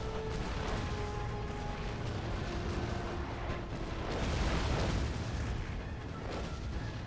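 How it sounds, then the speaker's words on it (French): Battlefield artillery fire and explosions in the strategy game Empire: Total War, a continuous dense roar of overlapping booms and crashes, with no distinct voices. "c'est tellement drôle de voir autant d'explosions."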